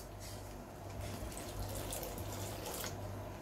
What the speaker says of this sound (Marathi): यामध्ये आपण गरम पाणी ओतूया